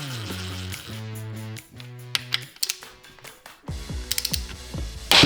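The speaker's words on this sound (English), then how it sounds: "the pop was the plate forcing the steel shims to align with the aluminum case" Tightening a retaining plate on a Land Cruiser low-range transfer case with crawler gears sets off rapid ratcheting clicks, followed by sharp metallic knocks and a pop as steel shims are forced into the aluminum case.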